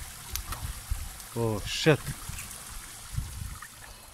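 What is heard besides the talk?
fish released into water, splash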